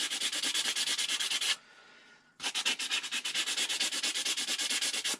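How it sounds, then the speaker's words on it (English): Sandpaper rubs back and forth on a golf putter shaft, roughing its surface before epoxy goes on. The strokes come fast, steady and close, then pause briefly before the same rapid scrubbing starts again. "We just want to rough up the surface to give the epoxy something to adhere to."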